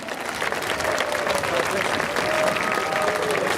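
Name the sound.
applause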